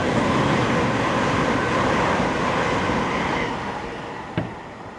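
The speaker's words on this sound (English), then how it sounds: "right on cue, here comes a train. Not stopping." A train passes through Rainhill station on the Liverpool to Manchester main line without stopping, a loud close continuous roar that fades toward the end, with a brief click near the finish.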